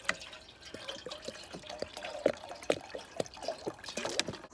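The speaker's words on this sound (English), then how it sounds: "Right, so I think that's about a litre of water in there." Water poured from a container into a Pathfinder pot outdoors, heard as a run of small drips and splashy trickles at close range, irregular and fairly quiet, with no talking.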